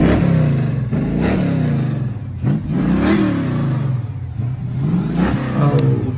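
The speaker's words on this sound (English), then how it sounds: "Big block engine. Get the car sound." A big block car engine at a car show revs loud and close in repeated rising pulls, with deep rumbling harmonics swelling and falling between blips and no talk over it.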